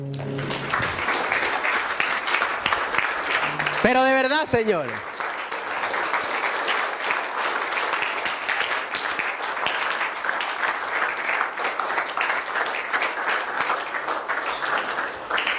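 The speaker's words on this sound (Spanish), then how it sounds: "Y démosle un aplauso al Rey por eso." A standing church congregation applauds at a night service in a sustained dense roar of many hands. Someone speaks briefly over it, and a rising musical swoop cuts in near the start.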